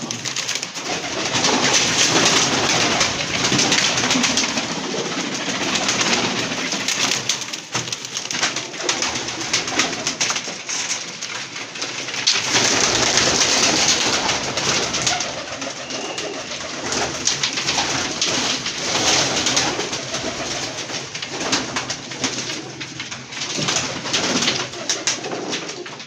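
Pigeons cooing continuously, close and loud, a dense overlapping chorus of soft throaty calls with no talking.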